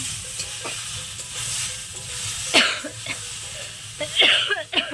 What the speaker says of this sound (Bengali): কাশি শুরু হয়ে গেল